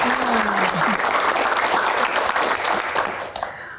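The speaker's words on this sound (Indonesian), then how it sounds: "tepuk tangan anak kolong" A studio audience claps loudly and continuously on a Q&A show, a thick roar of hands with a brief voice near the start, tapering slightly toward the end.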